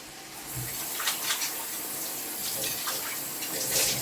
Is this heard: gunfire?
no